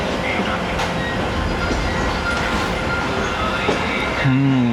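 An express train rolls into Kot Radha Kishan railway station with a steady rumble and rattle of wheels on track, close and loud, and a brief squeal rises near the end.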